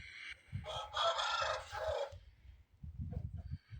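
A rooster of about 4.5 kilos crows once, loud and close, a drawn-out call followed by softer clucking and low rustling from the poultry yard.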